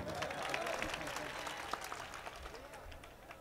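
Crowd at an all-India mushaira and kavi sammelan in Tulsipur clapping for the chairman, a soft, scattered patter of applause heard at a distance beneath an amplified speaking voice.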